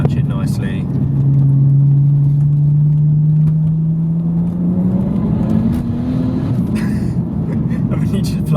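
A BMW 135i E82 coupe tuned to 486 bhp accelerates hard, its engine note climbing steadily in pitch from inside the cabin, with a person talking briefly near the start and end.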